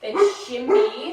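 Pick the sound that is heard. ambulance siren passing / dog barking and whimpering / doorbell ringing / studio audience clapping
dog barking and whimpering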